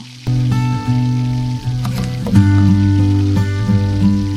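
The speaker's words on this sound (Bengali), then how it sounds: "কড়াইতে তেল দিয়ে পটলগুলো ভেজে নেব।" Pointed gourd (potol) pieces fry in hot oil in a wok with a steady close sizzle, punctuated by crackles and spatters, while a low tonal hum runs beneath.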